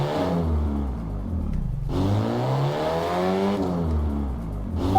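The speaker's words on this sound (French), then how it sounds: "J'allume le moteur." A car engine in Garry's Mod roleplay hums loudly and revs, its pitch dipping and climbing in smooth sweeps, close and continuous with no talking.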